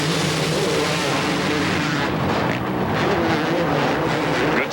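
Several dirt bike engines rev loudly together at a supercross race start in the EA Supercross 2000 video game, a dense, continuous roar of buzzing motors filling the whole stretch without pause.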